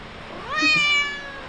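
A single clear cat meow, rising then falling, close by and fairly loud over quiet background.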